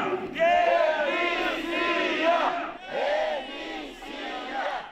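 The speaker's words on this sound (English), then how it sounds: "They chanted, "We are the people."" Crowd of protesters in Moldova chanting in unison, repeated rhythmic shouted phrases from many voices, loud and close, with brief pauses between chants.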